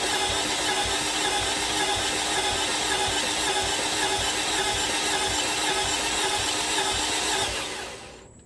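A 2011 Toyota Camry with a stalling and lifter issue idles with the foot off the throttle, giving a steady, dense mechanical drone close up that cuts off abruptly near the end.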